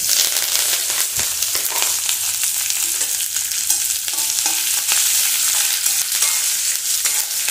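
Curry leaves and urad dal frying in hot oil for a raw jackfruit erissery, a dense, steady crackling sizzle that stays loud throughout with small pops scattered through it.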